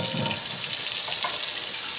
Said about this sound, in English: turn on my water